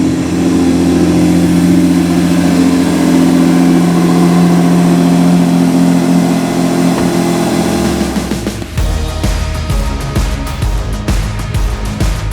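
A car engine with stock exhaust idles with a steady, low, even hum for several seconds, then the tone shifts to a rougher, choppier rumble near the end.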